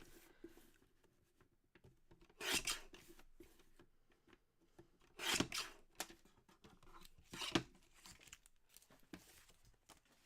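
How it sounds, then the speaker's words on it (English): Scissors trim around a paper tree cutout for a craft project, heard as three or four distinct bursts of snipping and paper rustle, fairly close and quiet against a soft background. "I'm just going to trim around this tree."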